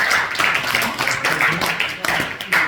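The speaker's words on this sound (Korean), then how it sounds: "박수로 환영하겠습니다" A church youth group claps steadily to welcome a new friend who stands up. The applause is loud and close, mixed with murmuring voices and some talk.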